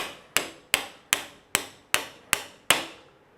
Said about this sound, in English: Simply line the punch up with the actual pin itself and then tap it out.